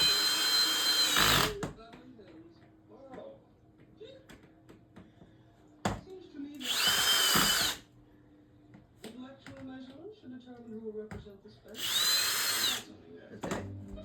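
A power drill runs in three loud bursts, each a couple of seconds long, while bifold doors are installed at home, with quiet handling noises and low talk between the bursts.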